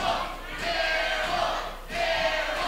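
A wrestling arena crowd cheers and chants for Airwolf at a Battleground Championship event, a dense roar that swells, dips briefly, then rises again.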